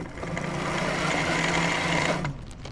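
BBSHD mid-drive e-bike motor spinning unloaded under a VESC controller script, a steady whirring hum with gear whine that holds for about two seconds, then cuts off abruptly.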